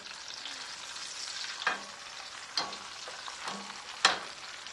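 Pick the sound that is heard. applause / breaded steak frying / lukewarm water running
breaded steak frying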